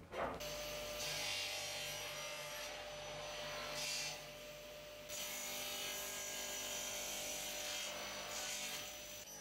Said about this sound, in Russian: Пилим!